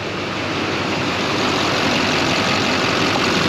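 Duramax diesel truck engine on a dual-alternator setup winding down from high idle, a steady, loud, close rumble with no talking.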